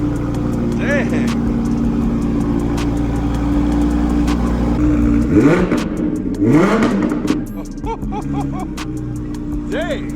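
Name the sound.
Ferrari F12 engine revving with Frequency Intelligence exhaust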